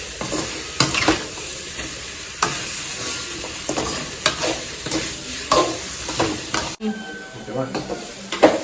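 Eggplant and drumstick pieces fry in hot oil while being stirred, with a steady close sizzle broken by repeated scraping stir strokes against the pan.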